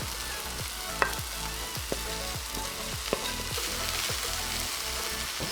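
Paneer and cooked rice fry in a pan for a paneer fried rice, giving a steady close sizzle broken by a regular series of soft scraping stirs and a few sharp clinks of the spatula against the pan.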